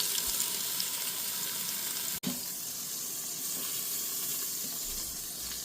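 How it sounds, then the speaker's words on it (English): A beef roast sears in an Instant Pot on the saute setting, giving a loud, continuous broadband sizzle with one brief dropout partway through. "we got our beef seared"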